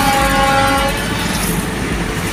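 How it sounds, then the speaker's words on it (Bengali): Freight train rolling past close by with a continuous loud rumble and wagon clatter, a brief horn tone at the start, no talking. "মালগাড়ি যাচ্ছে"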